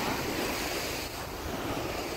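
Strong, steady rush of water and waves along a shore in Kuwait, a loud continuous broadband wash mixed with wind buffeting the microphone, with no speech.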